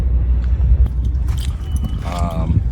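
Keys jangle in an electric golf cart with off-road tires at an auction, a brief bright metallic rattle near the end over low engine-like rumble and handling noise, with a voice briefly present.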